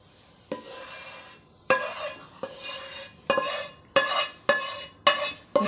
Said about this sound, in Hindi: अब हम इसे डब्बे में डालेंगे